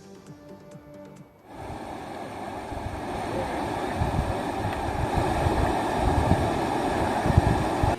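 A flooded river surges across its banks with a steady, broad roar. The rushing grows louder after a quiet opening moment and continues unbroken and close.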